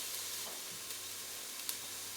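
Ginger goes into a hot pot for chicken and red lentil soup, giving a faint, steady sizzle with a couple of soft stirring clicks, quiet and close, no talk.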